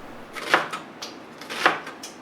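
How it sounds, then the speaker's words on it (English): A knife dices food on a cutting board, with a few light crisp taps close up and two clearer chops about a second apart. "And then cut the other way to dice her up."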